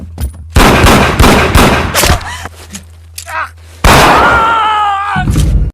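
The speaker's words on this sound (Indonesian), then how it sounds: "tiba-tiba Tony menembak Wilson dan Donnie pun menembak Hua." Gunfire from an action film shootout: loud, rapid bursts of shots and impacts in clusters, broken by brief pauses and a sharp whistling sweep, with a deep booming score beneath.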